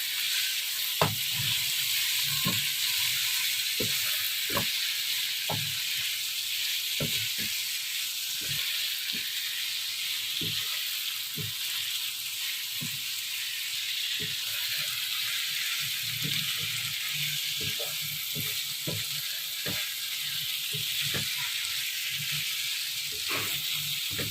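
Meat fries in a spiced masala in a pan for bhuna gosht, a continuous bright sizzle broken by frequent soft scraping and stirring knocks.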